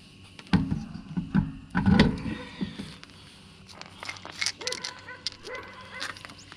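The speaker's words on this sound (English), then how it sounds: "Dogs in this neighborhood never shut up, guys." Neighborhood dogs bark in a few scattered, sharp bursts at middling distance, mixed with small clatters and footstep-like knocks, with quieter yelps later.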